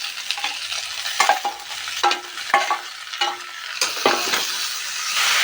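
Tomato and mushroom with drumsticks fry in a pan, a steady sizzle broken by repeated scraping stirs, close and moderately loud with no talk.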